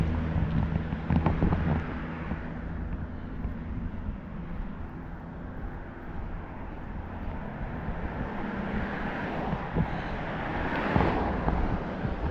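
Steady rushing wind from a passing warm front buffets the microphone outdoors, with gusty swells rising and falling throughout and no voices.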